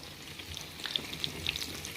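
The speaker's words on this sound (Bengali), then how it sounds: "স্প্রিং রোলগুলোকে ভেজে নিচ্ছি, আর এগুলোকে ভেজে নিলাম" Spring rolls frying in hot oil, a quiet steady sizzle with scattered light crackles and pops, close by and with no voices.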